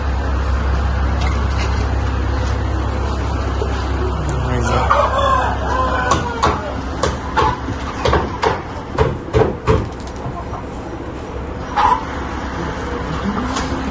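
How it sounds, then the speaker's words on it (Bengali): Chickens cluck and a rooster crows on a farm, loud and close, with a low engine-like rumble in the opening seconds and a series of sharp bird calls later. "মুরগিও কিন্তু অনেক রকম আছে এখানে, মুরগি কবুতর সবগুলা মিলে আর কি"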